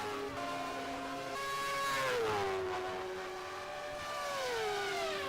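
An F1 race car from the 1990 season in rFactor, failing at Imola, whines with a thin, wavering engine note that rises and falls as it comes into the pits, heard alone and fairly faint.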